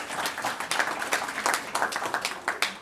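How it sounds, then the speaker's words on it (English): Scattered clapping from a business forum audience, individual claps audible in an uneven rhythm rather than a full roar, moderately close and fairly quiet. "Let's give him a round of applause."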